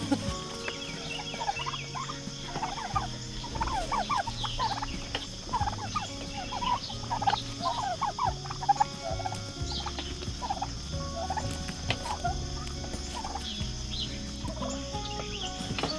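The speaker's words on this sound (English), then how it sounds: "Turkeys are anxious to get out." Broad-breasted white turkeys in a pen, several birds gobbling repeatedly in overlapping bursts against a low, steady background hum, close and fairly loud.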